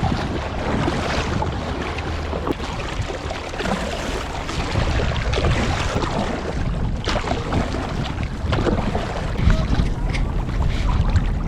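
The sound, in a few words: kayak leaving the harbour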